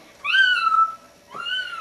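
A voice imitating a cat, giving two meows: a longer rising-then-falling mew followed after a short pause by a second, softer one.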